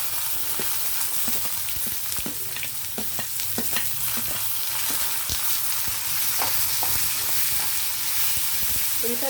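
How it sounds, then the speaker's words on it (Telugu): Onions frying in a pan with dried red chillies for an onion tomato chutney, giving a steady close sizzle with scattered crackles and pops throughout, with no talk. "ఉల్లిపాయలు కొంచెం వేగనిద్దామండి."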